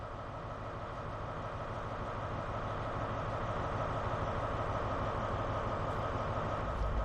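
A First Great Western HST train in Train Sim World 3, on a Glasgow route, gives a steady, loud rumble of engine and rolling stock throughout, with no gaps and no talk.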